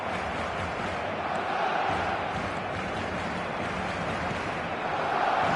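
A large football-match crowd applauds at a Corinthians game, a broad, continuous roar of clapping and noise that swells slightly toward the end.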